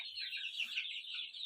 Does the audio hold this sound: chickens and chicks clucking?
yes